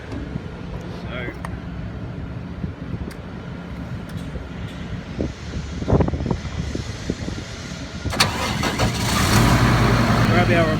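A Rayco RH1754-240 horizontal grinder's engine cranks and comes to life near the end, rising into a loud, close roar after scattered knocks and mechanical clatter, with some talk heard earlier.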